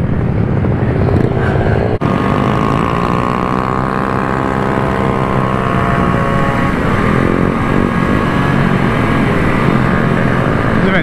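A Goped GTR scooter engine held at full throttle, a loud, continuous high-pitched two-stroke whine close to the microphone, with a slight pitch drift over several seconds.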